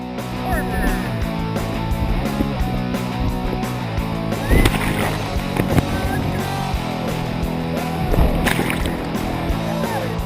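Whitewater rapids in New Mexico rushing and splashing around a raft, with steady loud churning water, bursts of heavier splashes and sloshing, and faint voices now and then.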